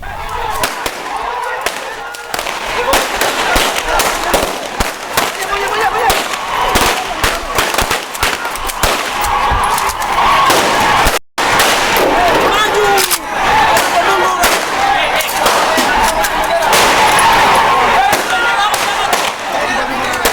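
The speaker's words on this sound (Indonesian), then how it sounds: "Tembakan peringatan ke udara berkali-kali terpaksa dilepaskan aparat kepolisian" Repeated sharp cracks of police warning shots fired into the air ring out amid a noisy, agitated crowd in Indonesia, with a steady chaotic roar of shouting voices throughout.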